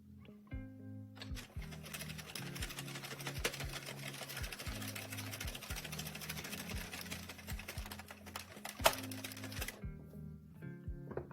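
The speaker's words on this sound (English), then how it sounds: "I'm going to take my brim color, drop that in, and slowly crank around." Circular knitting machine cranked around by hand while knitting the brim of a baby beanie, a soft rhythmic clicking and clattering of needles in steady repeating cycles, close and quiet, with no talking.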